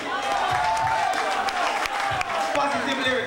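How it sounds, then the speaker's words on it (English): Audience applause and cheering at a talent show, a crowd clapping with scattered shouts at moderate loudness beneath a voice talking over an amplified system. "A round of applause, please."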